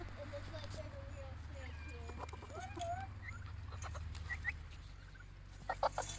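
Chickens and a turkey cluck in a dirt yard, with soft scattered clucks and chirps near and far over a low background hum and voices talking quietly.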